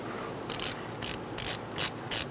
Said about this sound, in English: Break loose that bolt for your brake hose